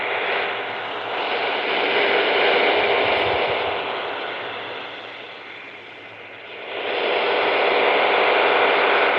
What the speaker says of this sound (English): We might have found a number station, guys.